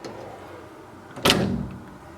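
Door of an Ecomax F504 washing machine shutting, a single sharp close thud near the middle over a quiet background hum.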